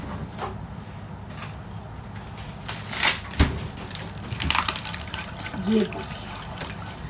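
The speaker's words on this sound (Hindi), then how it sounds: "कुल थोड़ी सी व्हाइट सॉस डालेंगे।" White sauce is poured into a creamy macaroni pasta with a soft liquid trickle and light stirring sounds over a low background hum, while a voice talks now and then.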